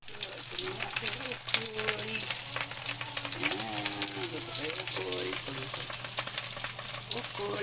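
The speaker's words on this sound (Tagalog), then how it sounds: "Luto ng okoy." Okoy, shrimp fritters, frying in hot oil with a steady close sizzle and crackle throughout, with background talk and music-like tones layered over it.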